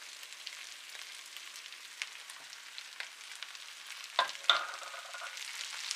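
Cabbage and carrots fry in a pan over medium heat for pimento cheese eggrolls. The sizzle is soft and steady, with a couple of brief clatters and a short louder spit near the end, and no one speaks.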